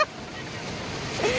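Overflowing lake water rushing at Veppur: a broad, steady roar of moving water that fills the whole moment, loud and close, with a faint whistle near the end and some noise of people nearby.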